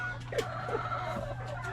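Chickens in their coop give a few soft, scattered clucks close by over a steady low hum, with no talking.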